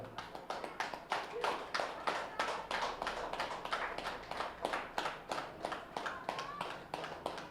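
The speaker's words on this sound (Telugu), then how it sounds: "గట్టిగా క్లాప్స్ కొడదాం." A group claps loudly and steadily in unison at the end of a meditation session, a long run of rhythmic, evenly spaced claps that fills the room.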